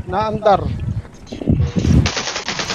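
Gunfire in an online shooter video game, bursts of rapid automatic fire mixed with a loud continuous rattling stretch, under a voice talking briefly at the start.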